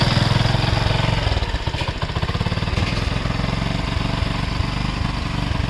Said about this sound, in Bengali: এই বাইককে স্টার্ট দেওয়া হলো সাউন্ড কন্ডিশন খুবই ফাইন